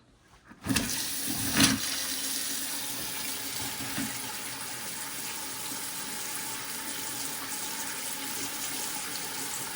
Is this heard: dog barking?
no